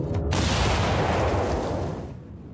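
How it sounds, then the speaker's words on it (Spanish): A single loud, dense blast like an anime explosion sound effect, rumbling and then trailing off over a couple of seconds. "¡Explosión!"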